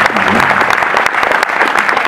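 Loud audience applause for co-producer Richard Peset at a film debate, a close, dense patter of many hands that continues steadily with a brief dip partway through.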